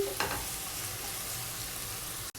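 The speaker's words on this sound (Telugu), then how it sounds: "క్యాప్సికమ్ వేసిన తర్వాత సిమ్లో పెట్టుకొని ఇవంతా గోల్డెన్ కలర్ వచ్చేంత వరకు ఫ్రై చేసుకోవాలండి" Capsicum fries in a pan over low heat for white sauce pasta, a soft continuous sizzle with a spatula scrape at the start and a sharp knock near the end.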